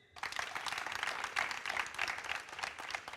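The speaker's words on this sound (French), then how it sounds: "Oui, on peut l'applaudir." Studio audience applause on a television talk show set, steady dense clapping that starts sharply and continues evenly to the end.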